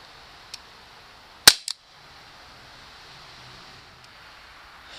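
A few sharp shots from an Umarex Walther P38 CO2 blowback BB pistol: one loud crack with a quick second report right after, plus faint clicks around it, close up in a quiet room.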